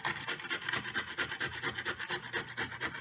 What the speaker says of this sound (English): So you're going to use a grater.